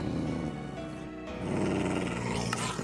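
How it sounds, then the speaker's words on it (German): Dogs in the Minecraft video game growl in low, rumbling bursts, close and fairly loud, with a short pause in the middle before the growling resumes. "Die Hunde machen mich ja wahnsinnig"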